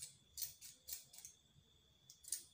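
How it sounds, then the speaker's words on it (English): Scissors snip through strands of human hair while shaping textured faux locs, several quiet, crisp close-up cuts spaced irregularly over a few seconds with a hushed background and no talking. "This black here, I'm going to cut out this black."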